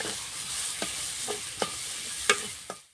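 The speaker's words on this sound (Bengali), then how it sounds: "দিয়ে আবার 2-1 মিনিট নাড়াচাড়া করবো এই মশলাগুলোকে" Kashmiri chilli and spices fry in a pan with a steady sizzle while a spoon scrapes and stirs in several distinct strokes, close and moderately quiet.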